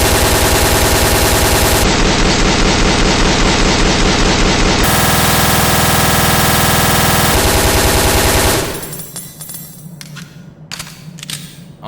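Rapid sustained automatic gunfire from an assault rifle in Resident Evil: Dead Aim, loud and continuous for several seconds before breaking into scattered shots and echoes.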